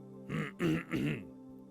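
A man clears his throat up close in three short, rough voiced bursts, with no other sound around them.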